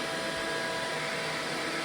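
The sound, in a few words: vacuum cleaner sucking up water from floor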